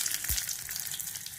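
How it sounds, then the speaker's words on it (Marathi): Brown rice is stirred into a hot tempering of mustard seeds, asafoetida and chilli, giving a soft, fairly quiet continuous sizzle with a brief low thud near the start and no talking. "त्याला चांगला हलवू द्यायचा"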